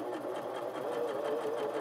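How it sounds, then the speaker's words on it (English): A sewing machine steadily stitching fabric for a glasses case, a continuous fast mechanical whir and rattle heard close up, with no talking. "Make sure not to sew over any pins."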